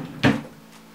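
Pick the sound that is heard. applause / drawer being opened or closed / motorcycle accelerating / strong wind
drawer being opened or closed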